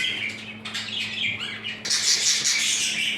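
Young budgerigar chicks, newly weaned and moved to a juvenile cage, chirp and squawk in a busy, overlapping chatter that grows louder and denser partway through, with no talking.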